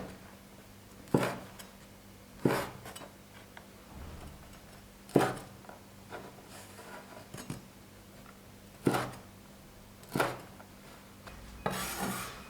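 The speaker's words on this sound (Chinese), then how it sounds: "一把红枣，去核，同样切成小一点的颗粒。" A knife chops pitted red dates into small pieces on a board, giving distinct, crisp strikes at spaced intervals, about eight in all, quiet and close, with a faint steady hum beneath.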